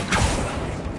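Casting the Accio spell in Hogwarts Legacy gives a short, close swoosh with a soft low thump, a brief magical pull that trails off within a second.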